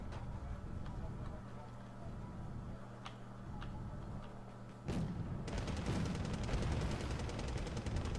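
AMX-32 tank cannon fire in a war strategy video game, a few sharp distant-sounding shots over a low battle rumble, followed by a denser rattle of gunfire, with a commentator talking throughout.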